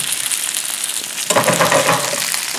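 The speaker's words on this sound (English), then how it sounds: "if you can gently defrost it, you can pan fry it" Vegetarian calamari sizzling steadily as it pan fries, a dense, loud crackle that continues throughout and swells a little louder partway through, with no voices.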